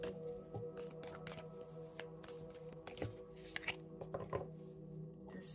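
Tarot cards being shuffled by hand, soft riffling and slapping in irregular bursts, close and fairly quiet over a steady background hum.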